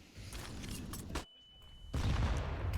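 A grenade goes off in Counter-Strike: Global Offensive during an Astralis versus Natus Vincere match on Nuke: one loud burst lands after a brief hush, amid ongoing game noise and caster talk.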